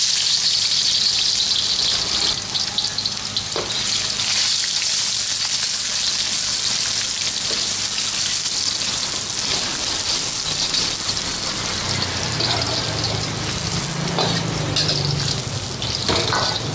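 Shallots and garlic sizzle in hot oil for fish frying, a steady loud crackling hiss filling the clip with occasional pops and no talk.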